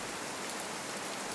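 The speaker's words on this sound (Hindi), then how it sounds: "एक अंधेरी तूफानी रात, बारिश ऐसे हो रही थी मानो आसमान में किसी ने नल खोल दिया हो" Heavy rain pours on a dark, stormy night as a steady, dense hiss of falling water, even and unbroken for a brief moment with no voices.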